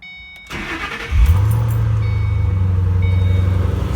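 A 2007 Ford Mustang GT with fresh spark plugs cranks briefly, then fires and settles into a loud, close, steady idle with a deep, even rumble.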